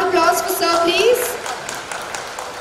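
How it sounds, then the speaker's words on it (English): Audience applause at the Mumbai International Motor Show 2017 launch, a dense wash of clapping that starts loud under harmonic tones and thins out toward the end. "Can we have a huge round of applause for Sir, please?"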